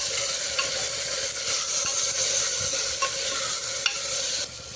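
Soaked chana dal with tomatoes and salt stirred in a hot pan, a continuous scraping and sizzling that stays steady throughout with no voices.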